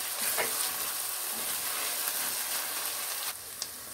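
Onion and garlic fry in a pot with a steady broadband sizzle, like a light crackling hiss, and a few faint clicks near the end. No one speaks.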